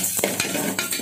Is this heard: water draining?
no